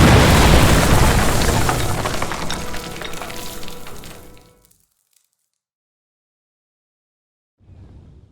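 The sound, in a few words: explosion in the video game Kingdom Come: Deliverance II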